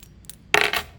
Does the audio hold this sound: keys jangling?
yes